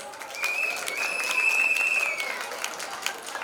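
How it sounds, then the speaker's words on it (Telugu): Loud, sustained applause from a crowd at a Sangeeth celebration, greeting Arjun and Sahana's dance performance. The steady clapping is dense and close, with a thin whistle-like tone riding over it. "ఒక్కసారి అర్జున్ అండ్ సహనా పెర్ఫార్మెన్స్ కోసం గట్టిగా క్లాప్స్"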